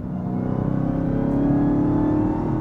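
Dodge Charger Hellcat King Daytona accelerating hard with its tires spinning, a loud, close engine roar climbing steadily in pitch through the gear.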